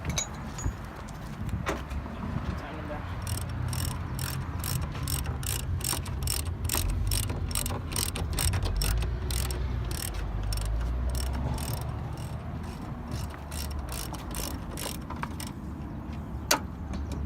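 A hand ratchet tightens shock absorber bolts on a MK4 Supra, its quick clicking bursts repeating in a steady rhythm close by over a low background hum, with no talking.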